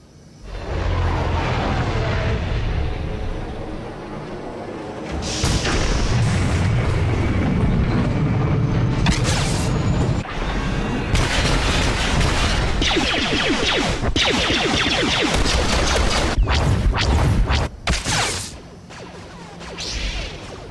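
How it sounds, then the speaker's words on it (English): Enemy artillery barrage in a Star Wars battle game, a long run of heavy booming blasts and whooshing impacts layered over constant loud rumble, with sharp cracking hits near the end before the din thins out. "Enemy artillery incoming!"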